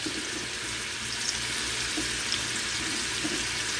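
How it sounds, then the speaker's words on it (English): Running water pours steadily from a tap into a kettle, a constant close splashing rush with no voices. "I have water going in the kettle"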